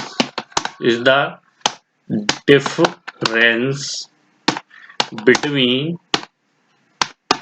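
Sharp key clicks tap out on a computer keyboard in quick irregular bursts, close and crisp, with someone talking in between.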